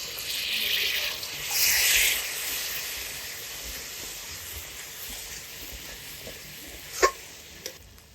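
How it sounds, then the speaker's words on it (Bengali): A splash of water goes into spice masala frying in oil in a pan for ghugni with peas, flaring into a hissing sizzle that swells for a moment and then settles to a faint steady fizz, with a couple of sharp clinks near the end. "দিয়ে দেবো অল্প একটু জল মশলাটা কষানোর জন্য ভালো মতন"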